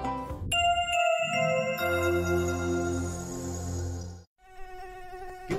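Mosquito buzzing in a public health announcement about keeping homes from becoming mosquito breeding sites: a steady, insistent whine with sustained tones, briefly cut off near the end before resuming, with no talking.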